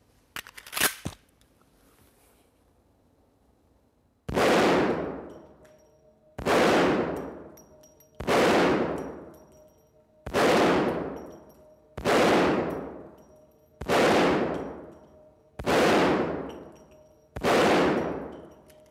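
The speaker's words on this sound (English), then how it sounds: "We get to shoot the Desert Eagle." Desert Eagle pistols in .44 Magnum and .50 AE fire eight loud, sharp shots at an outdoor range, evenly spaced about two seconds apart, each with a ringing decay, after a brief clatter of handling at the start.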